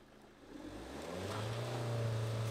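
A Peugeot D4B van engine revs up from idle, its pitch climbing and holding at a loud, steady drone.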